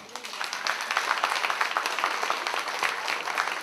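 An audience at a Chinese New Year school celebration breaks into a burst of applause, a dense wash of clapping heard from within the crowd, moderately quiet and steady for a few seconds.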